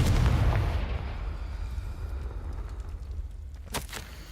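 A Confringo blasting spell explodes in Hogwarts Legacy, a loud low boom opening the clip and rolling off into a long rumbling tail, with a brief sharp crackle near the end.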